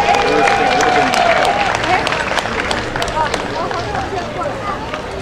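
A crowd at a festival opening ceremony in Japantown breaks into loud, sustained applause and cheering, with clapping and voices mixed together close by.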